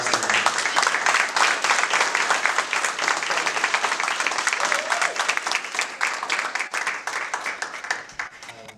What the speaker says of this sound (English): give a big standing applause for Global Attain Advancement